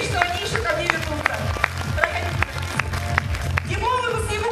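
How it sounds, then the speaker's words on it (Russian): Applause for young street-style dancers at a year-end dance school concert, a steady wash of clapping from a crowd with rhythmic music-like pulses underneath and some voices mixed in. "Громкие им аплодисменты"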